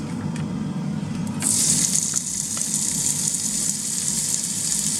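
Bacon is dropped onto a Karinear plug-in ceramic hob and bursts into a loud, steady sizzle that stays close and continuous, with a low hum of background noise underneath.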